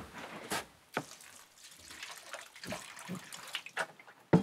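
Clean, tested well water pours and splashes in short uneven bursts for washing foraged food in an outdoor wild kitchen, a faint close trickle with brief gaps between pours.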